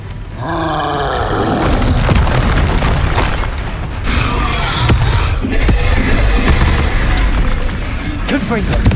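A Confringo blast spell explodes in the video game Hogwarts Legacy: a loud, dense booming roar sustained throughout, thick with low rumble and crackling debris, with layered battle effects and rising tonal sweeps at the start.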